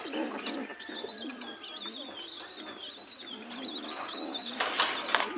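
A Giribaz pigeon coos in repeated low, throaty calls, close and clear against light background noise, with a voice at times nearby.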